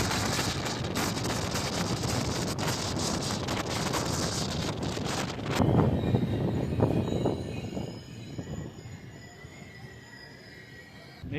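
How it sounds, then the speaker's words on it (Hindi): The Jabalpur–Howrah Shaktipunj Express runs on the rails in Jharkhand, India, with loud close rattling and clanking wheels and a thin metallic squeal, then the noise drops away to a quieter fading rumble in wind. "नई ट्रेन आ चुकी है।"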